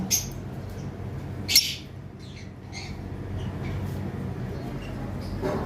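Lovebirds at a bird farm give sharp, high chirps and squawks, one loud burst standing out over a constant low rumble of background noise.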